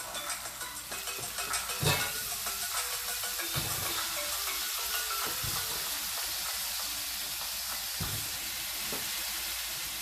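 Potatoes for a sancocho sizzle in a hot pot, a steady frying hiss with stirring scrapes running throughout at close range, no talking.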